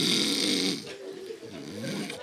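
A person snores with a rough, rasping breath that fades and then swells again, close by and fairly loud.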